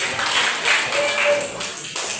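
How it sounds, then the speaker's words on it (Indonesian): Students in a classroom give a short round of applause, a dense patter of many hands clapping at moderate loudness for about two seconds, with a few voices underneath. "kita kasih tepuk tangan dulu"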